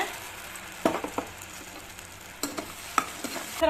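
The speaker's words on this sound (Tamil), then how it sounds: "இப்போ அதே நெய்லிங்க நாம இந்த வாழைப்பழம் அரைச்சோம் இல்லைங்க, அதுல போட்டு அப்படியே வதக்கிக்கலாங்க." Mashed Nendran banana sautéed in ghee gives a gentle sizzle in a pan, with occasional spoon scrapes and taps as it is stirred, fairly quiet and close.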